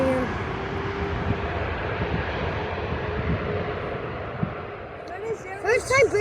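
British Airways airliner approaching to land at Vancouver International Airport, a steady broad engine roar from a distance throughout, with people talking over it toward the end.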